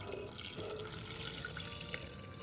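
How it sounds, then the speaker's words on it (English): Blackberry dye juice poured over fabric swatches on a kitchen counter, a steady close splashing trickle of liquid running for a couple of seconds with no talking. "I'm gonna pour over that blackberry dye juice."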